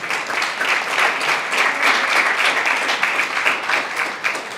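Audience applause at a school district board of trustees meeting, sustained clapping from a crowd in a hall, loud and steady for several seconds without speech.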